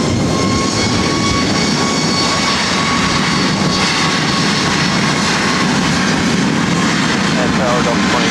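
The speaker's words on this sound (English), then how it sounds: "This is Southwest Airlines 1183 taking off to Oakland on a MAX 8." A Southwest Airlines Boeing 737 MAX 8 takes off at LAX, a loud, sustained jet engine roar with a faint whining tone running through it, continuous from start to finish.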